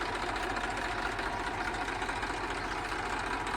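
A used Eicher 333 tractor idles close by, its engine running in a steady, low, knocking chug with no talk over it.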